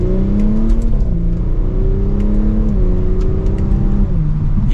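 A 2023 Audi S5 Premium Plus Sportback accelerates in second gear, its exhaust droning loud from inside the cabin as the engine note climbs steadily with brief dips at the shifts.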